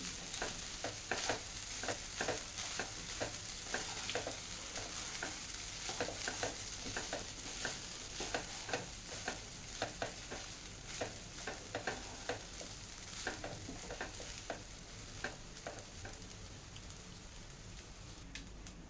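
Mint rice is stirred in a frying pan, a steady crackling sizzle with repeated scraping strokes of the spoon, close and fairly quiet, with no voices.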